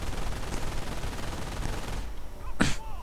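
MG42 machine gun fire in a World War II video game, a steady stream of moderately loud, fairly distant automatic fire rattling throughout, with one sharper burst close to the end.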